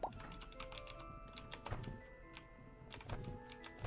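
Computer keyboard keys clatter in quick, irregular bursts of clicks while someone plays Our Darker Purpose on hard mode, with steady tonal game music underneath.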